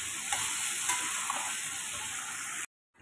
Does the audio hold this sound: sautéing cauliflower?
yes